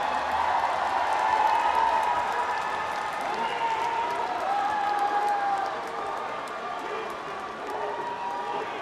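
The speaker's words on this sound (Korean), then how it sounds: "여러분 김문수 후보에게 큰 박수로 수락 연설을 청하겠습니다" Large crowd at a party convention applauding candidate Kim Moon-soo before his acceptance speech, sustained loud clapping and cheering that swells early then settles, with a voice speaking over the crowd.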